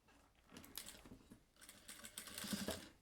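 A sewing machine stitches patchwork fabric in short, faint bursts of rapid mechanical tapping with brief pauses between them.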